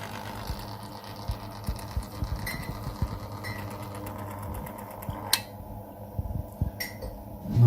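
Central heating pump in a Biasi M90 24S boiler running as a steady low mechanical hum with faint rhythmic ticking, close and fairly quiet, with a couple of sharp clicks near the end.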